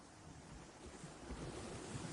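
Sea waves wash in a Scottish harbour at Nairn as a soft, continuous surf rush with a slight swell, faint and distant, with no voices.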